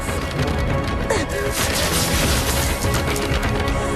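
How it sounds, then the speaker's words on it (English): A helmet smashed against an access control panel aboard a ship during a reactor emergency, heard as dense, loud crashing and splintering impacts that run continuously throughout with no voices. "the man removed his helmet and smashed the access control panel"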